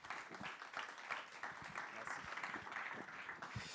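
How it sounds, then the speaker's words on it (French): Audience at an Edtech meetup in Hauts-de-France applauding as a speaker is welcomed to the stage, a steady wash of clapping from a room full of people that holds through the whole moment. "et puis vous pouvez l'applaudir."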